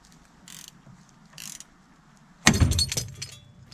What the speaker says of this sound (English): 21mm socket needed to remove the ball joint nut.